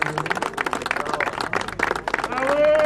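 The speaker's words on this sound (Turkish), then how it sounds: "Argun Çağal, Gökberk Çağal bir alkış." Audience applause at an offroad race award ceremony, uneven clapping from a modest crowd with a voice or hum faintly underneath, growing fuller toward the end.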